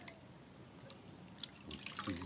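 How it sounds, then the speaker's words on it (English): Coconut milk, tinted yellow with turmeric, drips and trickles as grated coconut is squeezed by hand at a fireside, a soft continuous liquid patter with a few louder splashes near the end. "So we're squeezing out as much milk from that coconut we grate up here."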